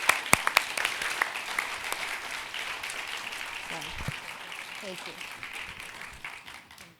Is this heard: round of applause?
yes